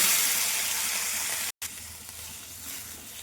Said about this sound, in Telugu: అదే కళాయిలో ఒక స్పూన్ నూనె వేసుకొని టమాటాలు వేసుకోవాలి